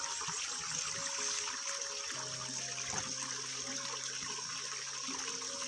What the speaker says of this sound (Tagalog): Lumakas yung tubig tol, no?